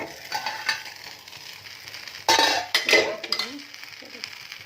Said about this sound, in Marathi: 5 मिनिटे झालेले, आपण झाकण काढूया।